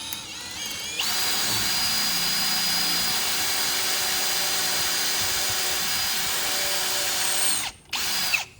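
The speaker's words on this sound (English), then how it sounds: "So now we're going to drill that." A power drill boring through wood while building a truck flag pole holder: a loud, steady high whine running about seven seconds close by, then briefly cutting out and restarting before stopping.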